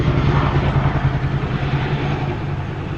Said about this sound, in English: it sounded like a fleet of, like, choppers.